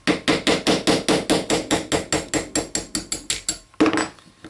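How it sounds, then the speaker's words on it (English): Hammer tapping a punch to drive plastic frame pins out of a Kel-Tec PF-9 pistol on a bench block, about eighteen sharp, evenly spaced taps that slowly soften, then one final louder tap, close and clear with no talk. "We're going to tap out these 3 frame pins."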